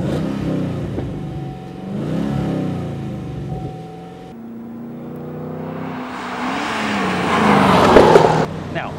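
A Chevrolet Camaro ZL1 engine revs and growls, rising to a loud roar near the end, with a voice talking over parts of it.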